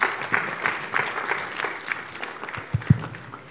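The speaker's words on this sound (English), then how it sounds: "Let's put our hands together, ladies and gentlemen" Audience applause at an indoor capital-market seminar in Takoradi, a moderate, fairly distant patter of clapping that thins out with a few louder single claps near the end.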